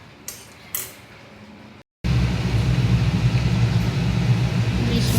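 Turmeric-coated hilsa fish pieces drop into a hot frying pan, and a loud, steady sizzle bursts in and keeps going after a few faint clinks and a brief silence.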